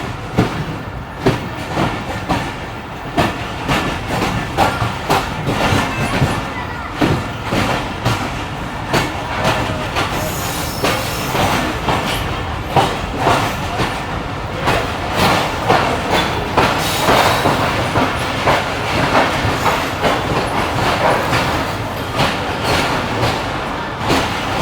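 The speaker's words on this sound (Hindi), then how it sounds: "बड़ा बेहतरीन प्लेटफॉर्म के साथ ट्रेन हमारी अप्रोच बना रही है नवाबशाह रेलवे स्टेशन पर" Karachi Express train pulling into Nawabshah railway station, heard from on board: a loud, steady rumble with repeated clickety-clack of wheels over rail joints, running throughout with no talk.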